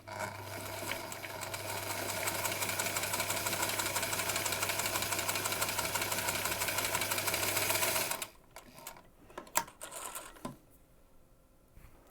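A sewing machine stitches a rainbow cowboy shirt in a steady, fast mechanical whir for about eight seconds, then stops, leaving faint fabric handling and small clicks.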